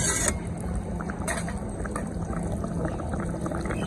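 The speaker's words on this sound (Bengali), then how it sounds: "ভালো মতো ফুটছে আর আলুগুলো সিদ্ধ হয়ে গেছে।" Hilsa curry with potatoes bubbling in a pot, a steady close gurgle of boiling liquid with faint clinks and a couple of brief sharper splashes, no talking.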